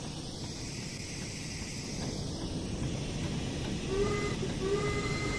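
Trains rumbling at Speke in the railway game Train Sim World 2, a steady low rolling noise with faint tonal squeals or whistle-like tones rising near the end, no talk.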